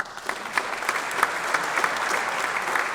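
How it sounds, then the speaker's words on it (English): Audience applause at a chamber of commerce small business awards event, a steady wash of many hands clapping throughout, moderately loud and continuous with no voices over it. "Give her a round of applause."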